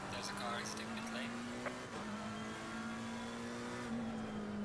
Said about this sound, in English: There's a car exiting pit lane.